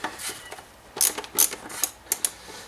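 Screws being undone from a car boot trim panel with a driver bit make a few short, close mechanical clicks and ticks, spaced irregularly over quiet background noise.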